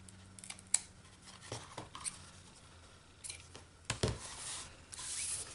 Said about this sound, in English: Let's trim our ribbon.